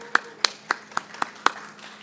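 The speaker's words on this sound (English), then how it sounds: "So let's give them a round of applause for that." Sparse, scattered clapping from a few people in an expo audience for primary school students, about six separate claps spaced unevenly, fairly close and moderate in level.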